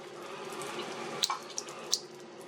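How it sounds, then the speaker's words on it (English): Water runs slowly through the priming button of a Berkey black filter element, a soft continuous trickle close by with a few brief drips and splashes over two and a half seconds. "You want the water running kind of slowly"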